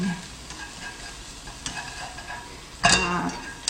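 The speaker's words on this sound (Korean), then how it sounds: "이것도 한 1분 내에 볶아서 꺼내주시는 거예요" Japchae ingredients are stir-fried in a pan with a steady sizzle and scraping stir throughout, then a sharper metallic clatter near the end, with no one talking.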